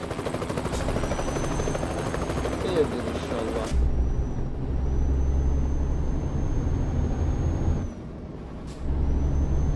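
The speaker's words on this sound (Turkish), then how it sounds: "Yolun ortasında helikopter mi?" In the video game Euro Truck Simulator 2, a helicopter's rotor whine and thumping over the steady hum of a heavy truck engine, with hissing bursts like air brakes in between.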